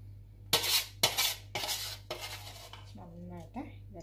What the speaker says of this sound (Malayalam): ഇതൊരു പ്ലേറ്റിനകത്തേക്ക് മാറ്റുവാണ്, അത് എടുത്ത് മാറ്റി വെക്കാം